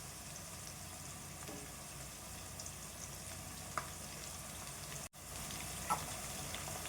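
Green chillies and curry leaves fry in hot oil for a village-style bottle gourd curry, a steady close sizzle with a few faint stirring clicks and one brief dropout.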